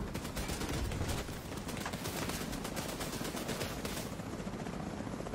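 Rapid, sustained gunfire rattles against turret guns in The Division 2 video game, a dense stream of shots under a low droning hum, loud and continuous throughout.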